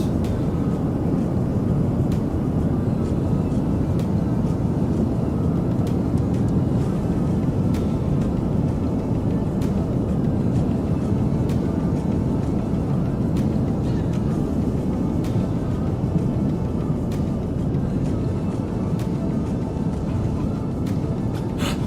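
A Piper PA-28R Arrow's piston engine and propeller in Microsoft Flight Simulator 2020 drone steadily throughout, a constant broadband cockpit hum with no pauses.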